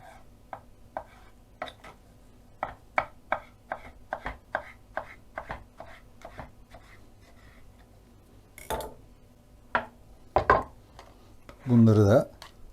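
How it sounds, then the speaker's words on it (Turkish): Rhythmic knife chops on a cutting board as eggplant is cut into cubes, steady and close, followed by a few scattered cuts and a brief clatter near the end. "Ardından şöyle kuşbaşı doğrayalım."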